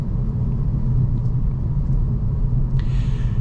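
A 2024 Kia Forte GT cruises along a back road, heard from inside the cabin as a steady low engine and road rumble that holds evenly, with a faint click near the end.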